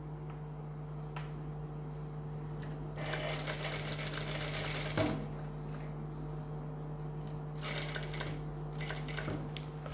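A sewing machine stitches a boat neck blouse in steady bursts, a fine rapid whirring chatter that starts and stops several times over a constant low mechanical hum, close and moderately quiet, with no talking.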